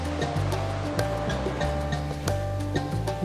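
Ocean surf at an urban beach by the Olympic Park in Sochi, Russia, rolling as steady, fairly loud wash with repeated soft surges and no voices.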